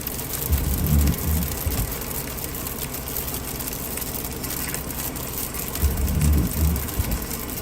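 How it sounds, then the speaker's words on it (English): Freezing rain and sleet pattering steadily on a car while driving on icy roads in a North Texas winter storm, a constant hiss over a low engine and road rumble, with heavier low thumps near the start and end. "Snowed earlier. Now it's raining. Some sleet. Freezing rain."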